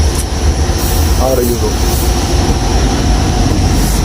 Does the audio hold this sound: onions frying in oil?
no